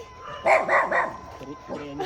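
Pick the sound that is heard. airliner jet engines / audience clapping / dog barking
dog barking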